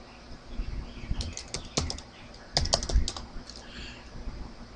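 Commands are typed on a computer keyboard to configure VLANs on a Cisco switch, producing close, irregular bursts of clicking keystrokes with short pauses between them.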